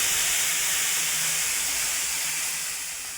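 Ground masala paste poured into hot oil with bay leaf and cinnamon for a paneer cauliflower gravy, giving a steady, close, bright sizzling hiss that fades slightly toward the end, with no talking.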